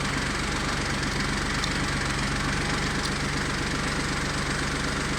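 A Kubota tractor's diesel engine idles steadily throughout, with an even, continuous rumble and a faint regular knock, close and loud with no voices.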